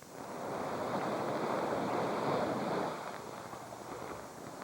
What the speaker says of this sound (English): The sound of the waves on the beach at Waikiki.